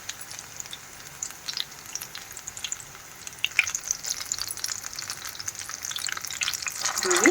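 Zucchini deep frying in hot oil, a constant crackling sizzle that swells louder toward the end, with faint stirring scrapes and no voices.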